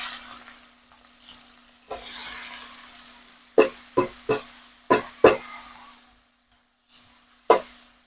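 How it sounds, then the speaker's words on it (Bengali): Cabbage going into hot oil with tempered spices, giving a brief sizzle that quickly dies down, followed by several sharp, close clatters of stirring in the pan and a last knock after a quiet pause. "আর এবার তেলে দিয়ে দেব বাঁধাকপিটা"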